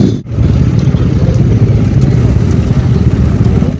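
A group of motorcycles on an Independence Day ride, including a KTM 390, roars along the road with a loud, steady engine drone and rushing wind noise close by.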